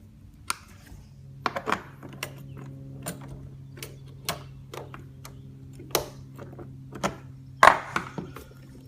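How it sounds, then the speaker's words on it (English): Screws are driven into the crank bracket of an Andersen window, heard as sparse, close, sharp clicks and ticks at irregular intervals over a steady low hum, with no talking. "Then I put the new screws in."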